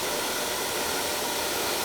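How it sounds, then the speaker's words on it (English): A hair dryer runs on low speed during hair styling, giving a steady, close, loud airy whoosh with no change in level and no talking. "Now I'm using the hairdryer on low speed today"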